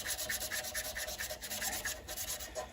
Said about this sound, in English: Being a rough sandpaper, you need to go with the grain.